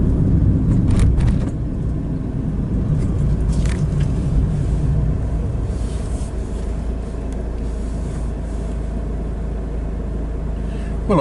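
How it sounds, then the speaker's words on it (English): A car drives past a waiting vehicle at a stop junction, a steady broad engine and road rumble that is loudest in the first couple of seconds and then holds as a continuous drone. "We'll just let this car go past."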